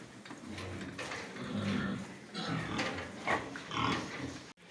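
Pigs grunting and snuffling nearby as they are driven out of a pen, with scraping and shuffling movement through most of the stretch and a sharp knock near the end.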